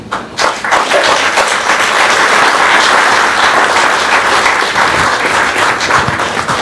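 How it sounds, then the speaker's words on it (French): Loud, dense applause from an audience at the inauguration of a cultural and social community centre, sustained clapping from many hands throughout with occasional thumps. "je vous demande de les applaudir"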